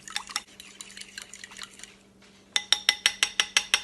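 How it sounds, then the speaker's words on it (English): A fork clinks against a bowl while stirring a Parmesan and herb mixture, first softer irregular scraping taps, then a brisk run of about ten sharp, evenly spaced metallic clicks, close and alone. "Take your fork, stir it up until all of the grains are gone"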